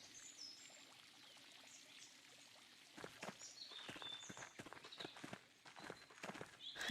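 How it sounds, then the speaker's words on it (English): Water pours and trickles in the video game Pentiment, soft at first, then a busier run of splashing, dripping clicks over high chirping tones, fairly faint and without speech. "Sorry if this sound of water makes you need to pee a little bit."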